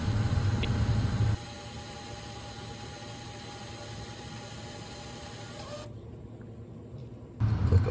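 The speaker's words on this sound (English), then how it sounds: "It's retracting the electronic parking brake." A BMW's electronic parking brake motor retracting in maintenance mode gives a steady mechanical whir for several seconds, framed by louder bursts at the start and end, with no talking.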